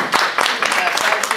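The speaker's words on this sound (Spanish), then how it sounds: "vale, un aplauso" Brief burst of group clapping from participants at an empathy-based conflict mediation workshop in A Coruña, close and fairly loud, rising and thinning in quick uneven waves.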